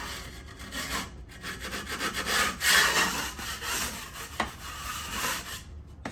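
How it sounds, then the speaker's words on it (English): Scraping a thick patch coat over a hole in a wall, heard as uneven close rasping strokes that rise and fall in loudness, with no talking. "We're gonna scrape a little bit."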